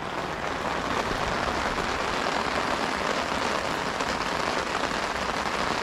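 Steady rain patters hard and continuously on a makeshift shelter at a fishing campsite, a dense close hiss with no voices.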